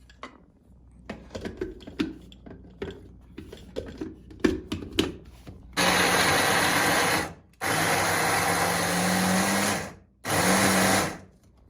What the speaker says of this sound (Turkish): Öncelikle sarımsaklarımızı robotta iyice çekeceğiz